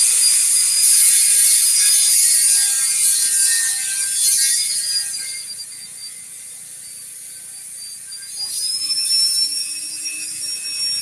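A rotary power tool grinds and cuts through hot plastic terrain pieces, a loud sustained high-pitched whine that shifts pitch as it bites in, easing off midway and then rising again, with no talking.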